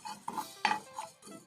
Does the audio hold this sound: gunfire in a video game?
no